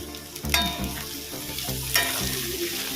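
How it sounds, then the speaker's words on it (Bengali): Chopped potatoes and onion sizzle steadily in a frying pan, with a few louder bursts as the mixture is stirred, close up and without speech. "পেঁয়াজটা হালকা করে ভাজা হয়ে গেছে আমি এবার কুচিয়ে রাখা আলু দিয়ে দেব"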